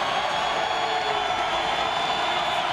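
Stadium crowd at Woodward Field on its feet during a Montana State vs Eastern Washington football game, a steady, roaring wash of cheering that holds even and loud throughout.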